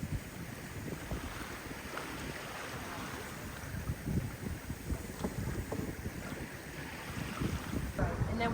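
A sailboat cruising during the Round The County 2022 race, heard as a steady roar of wind buffeting the microphone over rushing water and hull noise, loud and continuous with faint low thumps.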